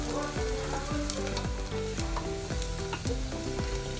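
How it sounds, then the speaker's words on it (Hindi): Chopped onions sizzle in hot oil over a high flame while a spoon scrapes and turns them in quick, regular strokes about twice a second; the frying is close, loud and steady, with no talking. "बस बीच बीच में थोड़ा थोड़ा चलाते रहना है जो कि एक सा कलर आए।"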